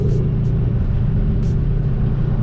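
A 2004 Cobra muscle car engine making about 800 horsepower roars with a deep, loud, continuous rumble close by, throbbing steadily throughout at a quarter-mile run.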